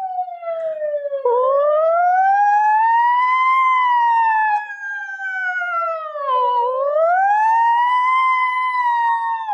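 A single voice imitates an ambulance siren, sliding smoothly up and down in a loud, sustained wail with no pauses.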